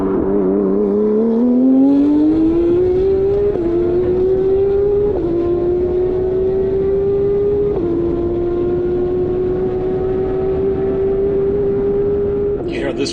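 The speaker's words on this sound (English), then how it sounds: "let's listen to a 991 GT3 Cup" Porsche 991 GT3 Cup race car with a sequential single-clutch gearbox, its engine note climbing steadily in pitch with several sharp upshifts marked by brief dips, loud and continuous across the run.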